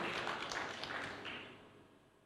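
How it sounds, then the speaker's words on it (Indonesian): A church congregation applauds during a sermon, a faint, distant patter of many hands that gradually fades away to near silence. "Berikan tepuk tangan yang meriah buat Tuhan."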